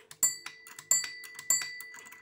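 Pendulum clock ticking in a room, three sharp metallic strikes evenly spaced about two-thirds of a second apart, each ringing briefly with bright overtones between softer ticks, close and clear.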